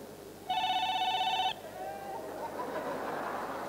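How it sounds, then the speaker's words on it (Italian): A telephone rings once in a comedy stage show, a bright electronic ring lasting about a second, followed by low room ambience. "Telefono."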